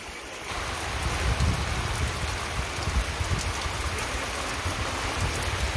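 Steady rain falls in a dense, continuous hiss on surfaces nearby during a fishing trip for hilsa, loud and unbroken throughout with no talk.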